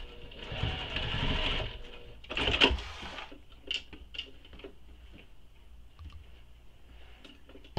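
A sewing machine basting a bag lining for a crossbody bag, a steady whirring run of stitching, then a brief louder burst followed by scattered clicks and short stitch bursts, close and alone.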